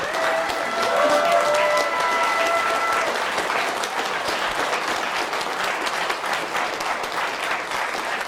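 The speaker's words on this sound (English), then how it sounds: "I think we can applaud now." An audience applauds after a candidates' debate, sustained clapping from a crowd that holds steady throughout, with a few brief tones at the start.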